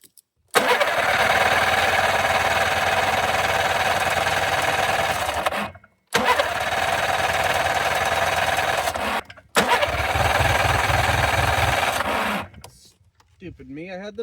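A snowmobile engine fed fuel from an IV bag runs in three loud, rough bursts of several seconds each, cutting out abruptly between them and sputtering at the end.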